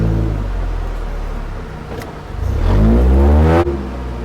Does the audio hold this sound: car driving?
yes